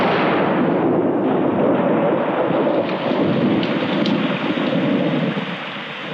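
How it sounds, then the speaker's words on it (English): A storm of heavy rain and rolling thunder, a dense steady roar of downpour with deep rumbles swelling underneath, loud and continuous, with no voices. "There was thunder and lightning, and the ship was blown about."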